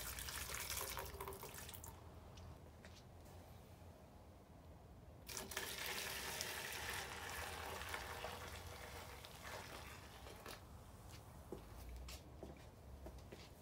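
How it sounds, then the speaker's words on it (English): Simple Green and boiling water pour steadily into a container holding a Yamaha TTR125 carburetor to soak it, a continuous close splashing rush with a brief break midway, no talk. "I'm gonna put some Simple Green and boiling water in there"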